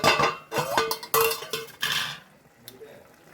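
A cooking pot lid is lifted off a boiling pot of dried prawn and ivy gourd dish, giving close metallic clinks and scrapes of pan and cutlery in a few sharp bursts, then quiet simmering.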